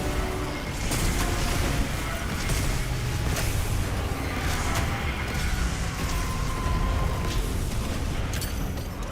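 Heavy rumbling explosions and repeated sharp blasts in a Monster Hunter Wilds battle with Arch Tempered Rey Dau, loud and continuous, several distinct bursts standing out over a thick roar.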